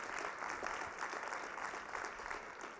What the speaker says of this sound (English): Maybe we should give William another big hand.